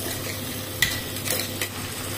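Ivy gourd curry is stirred in a pan while a soft frying sizzle runs underneath, with a couple of brief scraping clicks of the spoon, close up and without voices.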